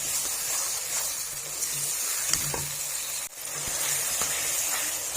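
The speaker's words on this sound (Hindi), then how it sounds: "ऐसे मटर ऐड कर देंगे। 2 मिनट मटर की भुनाई कर लेंगे।" Peas fried in a pan for an Indian mongray aloo dish hiss with a soft, continuous sizzle. A few faint clicks and stirs come through, fairly quiet and with no speech.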